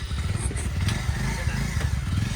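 Scooter carrying a double load of riders during Holi, its small engine humming and rumbling close by with road clatter and wind noise over a short stretch of riding.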